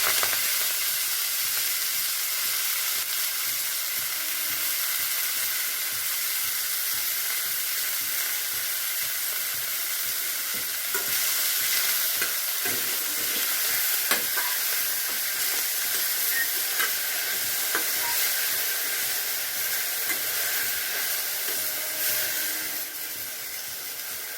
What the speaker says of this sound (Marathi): जिरे तडतडले तर ह्याच्यात मी भाजी घालते